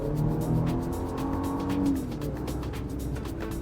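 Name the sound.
Nissan Patrol V6 engine accelerating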